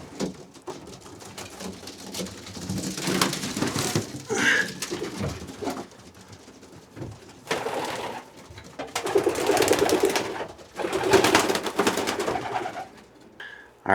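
A young racing pigeon released for a one-loft race coos softly nearby, with bursts of wing flapping and rustling; a person briefly talks in the background.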